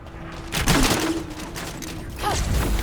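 Shotgun fire in The First Descendant, a burst of heavy blasts with mechanical clatter that rings on for about two seconds before a second loud volley, all at close range with no talk.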